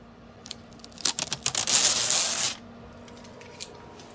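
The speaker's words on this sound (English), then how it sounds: "Let me take off this the plastic off of the Velcro" Plastic backing is peeled off a Velcro strip on a wooden DIY folding desk shelf. A few scratchy rips lead into a sustained tearing rasp that lasts about a second, then stops, and it is close and fairly loud.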